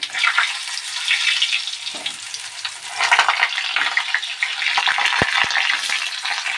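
Steady, crackling sizzle of stuffed pointed gourd frying in hot oil over a low gas flame, close and continuous, with a few sharp clicks near the end.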